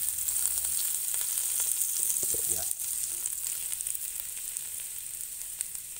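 Butter sizzles and fries steadily in a hot pan while garlic shrimp is cooked, a continuous close hiss with a few faint stirring scrapes partway through and no talking.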